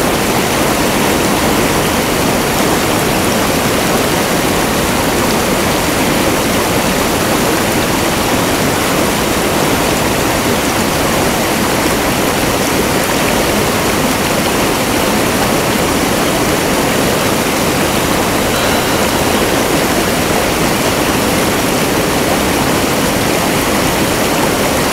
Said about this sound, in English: And we found this river.